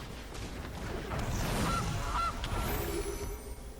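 A goose honk sound effect from the Magic: The Gathering video game, two short nasal honks in quick succession under soft background music.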